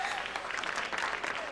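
Steady applause from a crowd, dense clapping filling the room with a bright, continuous patter at moderate level.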